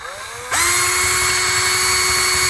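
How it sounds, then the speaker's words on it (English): A power drill with a metal bit drills out the factory rivets on a Leslie 147 amplifier, a steady loud whine that spins up abruptly and holds for about two seconds without speech. "I simply take the drill and drill and"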